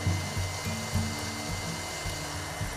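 An electric mixer beats egg yolks with baking Splenda for a sugar-free cheesecake, a steady close motor whine with a faintly pulsing low hum.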